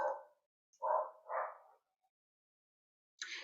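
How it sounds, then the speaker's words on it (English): Dogs bark a short way off, a few separate muffled woofs with brief silent gaps between them, faint and alone. "There are some dogs barking here."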